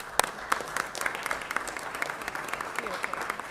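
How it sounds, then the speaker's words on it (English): Audience applause in a Los Angeles city council chamber during a live meeting: many hands clapping in a dense, crackling roll with sharper individual claps standing out, moderately loud and continuous throughout. "If you please join me in giving her a round of applause."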